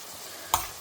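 Rice and spices being sautéed in a pan with salt, a faint steady sizzle broken by one sharp scrape of a spoon against the pan.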